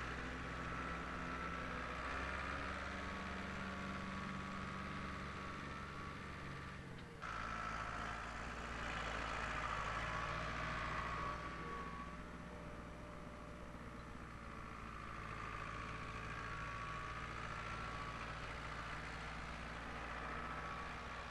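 A County FC654 forward control tractor, a 1965 prototype, drives steadily, its engine a continuous broadband rumble with a low drone, holding at even loudness throughout with a brief shift near the middle.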